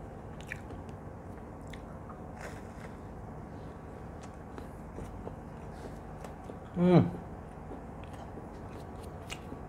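Biting into a banana flower chop (mochar chop) with nuts inside gives one loud, crunchy bite near the end, followed by faint chewing, with small clicks and ambient noise around it.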